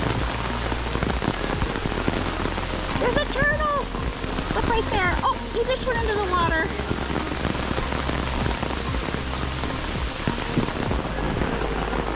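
Heavy rain pours steadily in a dense, hissing roar in Aiken, South Carolina, with a person speaking briefly over the downpour.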